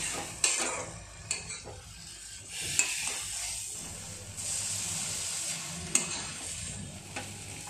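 Milk is stirred into sweet dry vermicelli in a pan and added bit by bit, bringing a quiet, hissing sizzle and steam with occasional spatula clinks and scrapes against the metal pan, and no talking.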